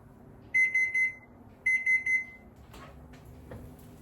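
Two bursts of rapid triple electronic beeps from a timer, close and loud, followed by faint clatter and quiet background.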